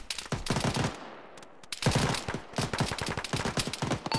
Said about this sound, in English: Taking fire from the two-story towers from the base.